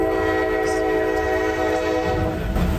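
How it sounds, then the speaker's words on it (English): A speeding train rushes past with its horn blaring in sustained, loud tones over the steady roar of the rail cars, alone, with no voices. "The speeding train left no chance for the driver to react."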